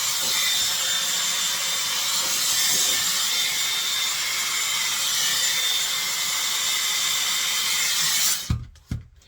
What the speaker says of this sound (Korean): 이렇게 해서 롤 브러쉬로 또 부드럽게 빗어줍니다